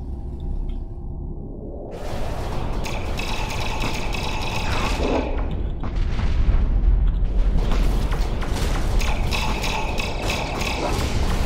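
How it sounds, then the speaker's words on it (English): Sabot rounds firing and exploding in the space combat game Starfarer, a quiet start giving way to a heavy rolling barrage of booms and mechanical clatter that swells and persists, loud and dense with no voices. "let's hit him with a round of sabots again"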